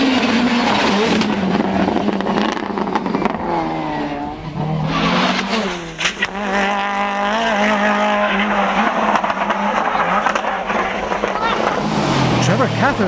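A rally car at the 1996 Ulster Rally roars loud and close through a stage jump, its engine revving hard, dipping and surging again. An excited commentator talks over the engine throughout.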